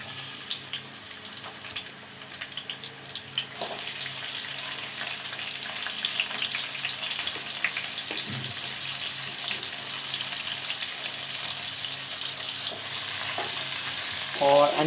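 Chopped onion hits hot oil in a kadhai with a sudden, loud sizzle that keeps frying steadily and close. Faint stirring is heard throughout, and the sizzle swells again near the end.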